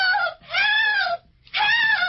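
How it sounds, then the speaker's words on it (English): A woman screams in a classic detective radio drama: two long, loud, wavering shrieks close to the mic, split by a brief silence, with no talk over them. "What's she screaming about, mister?"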